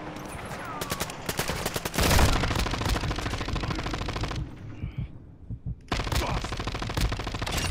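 Rapid automatic gunfire from Call of Duty: Modern Warfare II, with dense bursts of shots rattling almost continuously, a short lull near the middle, then renewed rapid firing.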